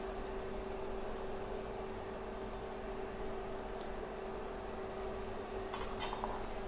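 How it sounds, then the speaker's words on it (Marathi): Bread pizza balls deep-fry in hot oil over a high flame with a steady, even hiss and a low hum throughout, faint and continuous, broken by a few light clinks near the end. "आता याच्यामध्ये आपले बॉल्स घालायचे आहेत, आणि डीप फ्राय करून घ्यायचे आहेत"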